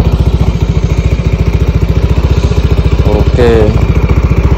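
An idling motorcycle chugs loudly and steadily up close, then its engine is briefly revved higher near the end, with a short spoken word over it.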